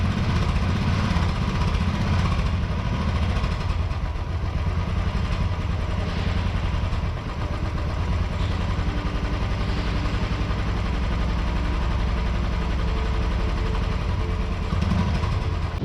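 A Royal Enfield motorcycle engine idles after a kick start, its steady low thumping rhythm running loud and close without a break, with no voices.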